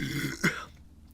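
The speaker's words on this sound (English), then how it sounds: "We gotta get that obligatory burp in there" A single short burp, close and fairly loud, breaks off from a brief stretch of talk and then trails into near silence.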